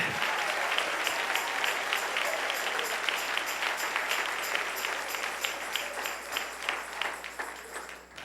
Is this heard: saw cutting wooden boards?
no